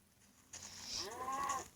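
A cow in the Minecraft video game gives a single short moo after a brief quiet moment, clear and fairly close.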